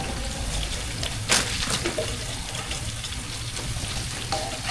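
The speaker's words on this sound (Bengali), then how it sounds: "এটা আমরা মিক্স করে ভালো করে আমরা কষাই নেব।" Onion, bay leaf, cardamom, cinnamon and cumin fry and sizzle in a pot for tehari, a steady hiss with occasional stirring clinks, close and continuous.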